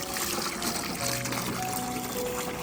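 Water runs steadily into a 5-litre garden sprayer tank, a close, continuous trickling and pouring with no talk over it.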